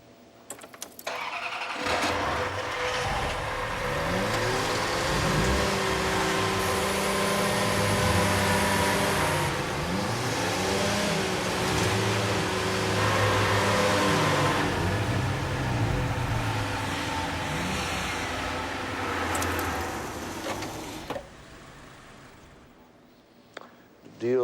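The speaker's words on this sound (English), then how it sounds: "everybody start your engines" Racing car engines crank and catch one after another, then rev and idle loudly together in a sustained, rumbling chorus, rising and falling in pitch before cutting off near the end.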